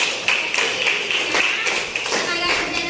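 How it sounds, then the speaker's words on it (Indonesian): Students in a classroom clap their hands together in a brief round of irregular, close, sharp claps, with voices mixed in among them. "tepuk tangan dulu Gades"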